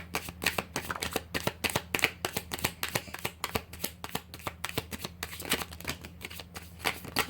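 Tarot cards shuffled briskly by hand at a table, a rapid run of close, crisp riffling flicks and slaps, some cards spilling out, with no talking.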